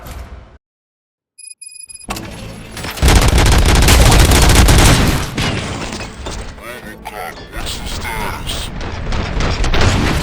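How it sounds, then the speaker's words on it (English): Gunfire erupts in Robocop: Rogue City after a brief near-silence, a dense loud burst of shots, crashes and shattering debris that rolls on in waves with a voice speaking over the clamor. "Gunshots? What's going on?"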